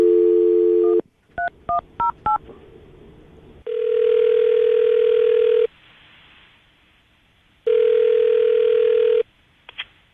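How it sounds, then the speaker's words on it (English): Outgoing telephone call: a burst of dial tone, a quick series of keypad beeps, then two long ringback tones separated by silence, clear and close. "we're going to call her right now so we can get her on the phone"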